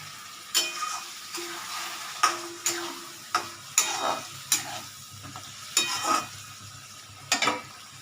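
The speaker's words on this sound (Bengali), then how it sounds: "মশলা ধোয়া জলগুলো আমি এটাতে দিয়ে দেবো" Spice-rinsing water goes into a frying aar fish curry in a pan while it is stirred. Steady sizzling runs under repeated sharp scrapes and clinks of the spoon, up close with no talk.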